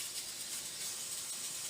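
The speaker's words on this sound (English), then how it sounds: "That's the sound of pares cooking inside the pressure cooker." A pressure cooker hisses steadily while cooking Filipino beef pares, a continuous close, moderately loud steam hiss with no talking.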